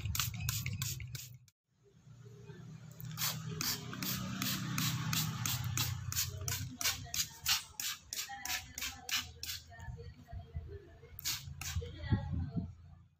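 A hand sprayer mists organic insecticide onto rose plants, a series of short, sharp hissing bursts at a close, irregular pace, louder and quicker toward the end after a brief pause.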